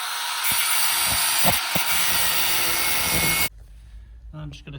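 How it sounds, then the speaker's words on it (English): An angle grinder cutting off the pins of a motorcycle chain on a KTM 1290R, a loud sustained harsh whine with a few bumps, stopping abruptly near the end before faint handling noises. "grind off a couple of the pins, which will allow me to take a link out"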